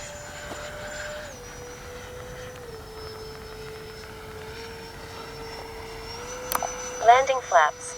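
A Freewing 80mm MiG-21 RC jet comes in to land with a thin, steady ducted-fan whine that dips and rises in pitch at a moderate distance, and a voice briefly speaks near the end.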